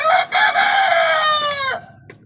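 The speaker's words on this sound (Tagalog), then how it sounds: "Ayan ang mga manok ko mga kalulu." A caged rooftop rooster crows loudly and close by, one long drawn-out cock-a-doodle-doo that trails off at the end.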